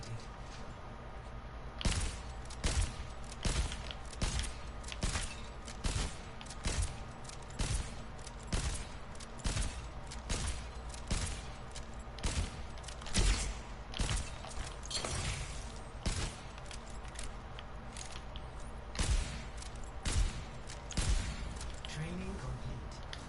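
Repeated gunfire on the Overwatch 2 firing range, a steady run of sharp shots spaced roughly a second apart over about twenty seconds, loud and close with a faint game backdrop.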